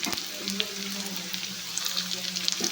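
Fried bitter gourd being added to onions frying in a pan, a soft, continuous sizzle with light clatter, fairly quiet and close.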